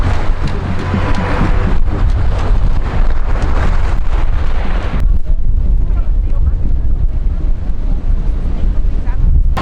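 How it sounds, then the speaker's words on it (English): Strong wind by the river in Lisbon buffets the microphone with heavy rumbling gusts, loud and continuous, easing somewhat midway. "It is currently very windy right next to the river"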